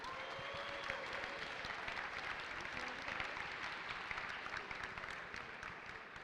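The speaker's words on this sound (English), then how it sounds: "let's give it up another round of applause for all of our winners of today," Continuous crowd applause at a hackathon closing ceremony, fairly distant and even, with faint cheering mixed in and slowly easing off toward the end.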